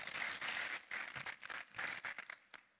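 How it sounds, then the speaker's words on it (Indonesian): A church congregation at a Sunday worship service claps in brief uneven bursts, a soft crowd of hands rising and falling in short waves before trailing off into a few scattered claps. "Tepuk tangan."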